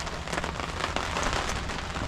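Steady rain falls outdoors, a dense, even patter on surfaces that holds at a constant level throughout, with no voices or other sounds breaking through.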